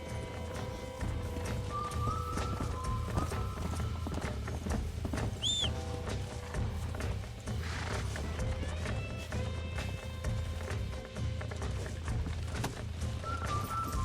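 Horse hooves clip-clop steadily at a trot in the Western video game Red Dead Redemption, set against a ranch scene with constant low ambient rumble and a brief whinny partway through.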